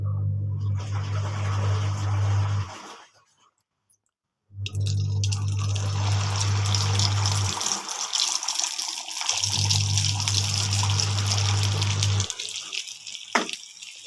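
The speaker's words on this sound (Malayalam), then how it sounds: "എണ്ണ ഒഴിച്ച് നന്നായിട്ട് ചൂടായി വന്നിന്. അപ്പം നമുക്ക് നമ്മളെ മാവ് ഒഴിച്ചു കൊടുക്കാം." Muttappam batter poured into hot oil in a pan gives a loud, steady sizzle and bubbling, broken by a near-silent gap and a few brief pauses, with no one talking.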